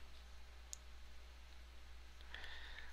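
A single sharp mouse click rings out once, faint and isolated against a quiet room hum, followed later by a soft electronic chime-like tone.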